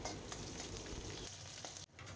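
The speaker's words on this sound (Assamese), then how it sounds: "এয়া তেল গৰম হৈ যোৱাত মই ইয়াতে দি দিছোঁ পিঁয়াজ, কাটি লোৱা পিঁয়াজ।" Chopped onion fries in hot mustard oil in a wok, a faint, steady sizzling crackle heard alone and fairly quiet throughout.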